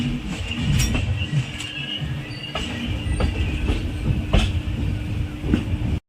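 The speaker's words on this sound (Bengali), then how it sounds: "আমাদের ট্রেন প্রায় 20 মিনিট লেট করে আমাদের সেকেন্ড লাস্ট স্টপেজ খড়গপুরে এসে পৌঁছলো।" The 12828 Purulia Howrah SF Express rolls into Kharagpur station, heard from on board as rhythmic clickety-clack of wheels over rail joints with sharp metallic clanks and a low continuous rumble.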